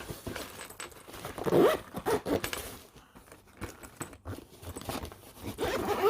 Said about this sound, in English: Oh, I should zip it up.